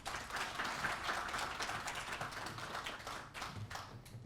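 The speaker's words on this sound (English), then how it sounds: "A very, very big round of applause to the PS" At a financial survey report launch, a distant crowd applauds in a faint, dense, continuous patter of many hands that runs steadily throughout.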